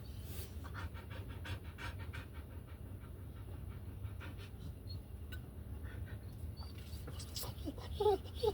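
A dog pants steadily and rhythmically close by for the whole stretch, with no talking over it.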